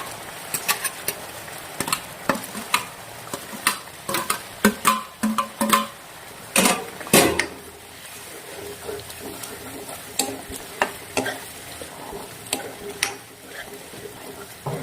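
Sponge gourd curry stirred in a pan, a spoon scraping and clacking against the metal in irregular sharp strokes over a faint sizzle, busier at first then sparser, with no talk.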